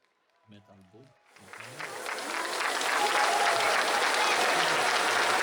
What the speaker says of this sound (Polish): Wielkie brawa jeszcze raz dla nich.